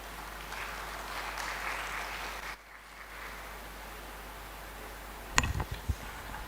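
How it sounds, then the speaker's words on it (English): A conference audience at a maternal and child reproductive health scientific meeting claps in a broad, steady wash of applause that stops abruptly partway through, followed by soft room noise and a few close handling knocks. "Another round of applause, please."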